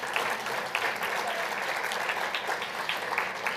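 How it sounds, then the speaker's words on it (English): A crowd at the Greater Boston International Women's Day breakfast gives a warm round of applause, dense and continuous clapping from many hands with no talk over it. "Round of applause for Simmons University."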